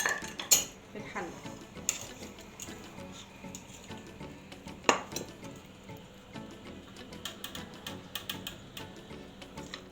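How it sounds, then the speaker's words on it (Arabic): Meat with carrots and onions is moved into a cooking pot, making scattered clinks and taps of utensils against metal cookware at close range, fairly quiet and irregular. "هشيل كده اللحمه بتاعتي كده بالجزر فيها وكل البصل وكل حاجه، واحطها هنا كده في الحله"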